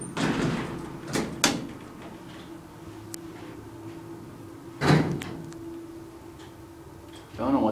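A Dover hydraulic elevator door at a hotel closes with a sharp, loud slam near the start, followed by quieter knocks and a second thud midway over a steady mechanical hum, with people talking around it.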